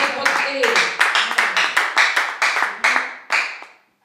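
A church congregation claps along rhythmically, a steady run of sharp hand claps roughly every third of a second that stops abruptly at the end, close and fairly loud.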